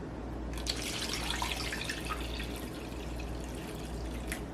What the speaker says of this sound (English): Start adding some water